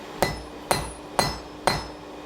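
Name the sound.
blacksmith hammering a nail point on an anvil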